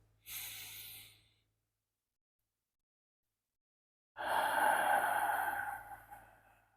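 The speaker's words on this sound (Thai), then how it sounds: "ค่อยๆผ่อยผ่อนลมหายใจออก ให้ยาวกว่าลมหายใจเข้าสักนิดนะครับ" Slow, deep breathing during a guided relaxation exercise: a short breathy inhale, several seconds of silence, then a longer, fuller exhale that fades out gradually, close and clear with no talking.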